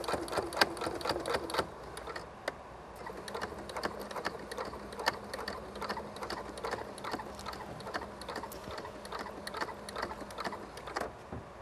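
A sewing machine stitching a seam on a tie shirt or canvas bag, its needle hammering out a steady, fast, close rhythm nearly the whole time after a few brief starts, with no talk.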